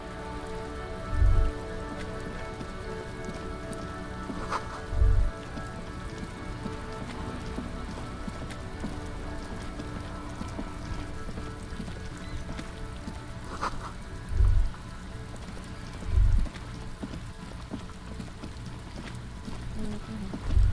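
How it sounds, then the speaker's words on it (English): Steady rain drums on a vehicle stuck in a traffic jam, a continuous close patter with a few heavier low thumps breaking through, and no voices. "Stuck in the rain in a traffic jam, man."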